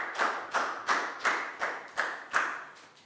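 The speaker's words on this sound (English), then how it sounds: "a big round of applause for Lakgao" A Year 4 science class claps for a student in a rhythmic unison pattern, seven crisp group claps spaced about a third of a second apart, each with a brief decay, near and moderately loud.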